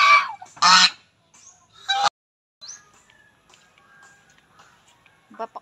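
Backyard geese honk while being fed, with a couple of loud, close honks at the start, then scattered quieter calls and a few soft sounds near the end.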